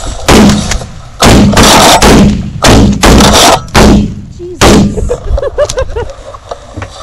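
Repeated loud shotgun blasts during a goose hunt, about six booming shots in quick uneven bursts over a few seconds, close by, followed by voices and a goose-like call.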